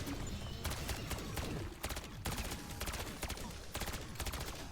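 A new LMG fires in rapid bursts during a Black Ops 6 Zombies match, with dense, loud volleys separated by brief pauses against the game's background noise.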